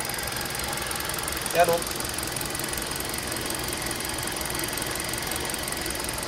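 Rebuilt engine of a Hyundai Accent running steadily at idle, a low continuous hum with a brief louder knock near the start, while people talk nearby.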